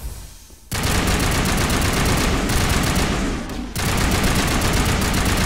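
Sustained incendiary-round gunfire from the video game Mass Effect Legendary Edition, a loud continuous automatic burst that briefly drops out and then resumes at full intensity.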